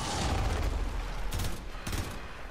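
Gunfire from the Warframe video game during the Deimos boss fight, a dense sustained volley with a couple of sharper bursts near the end, loud and continuous.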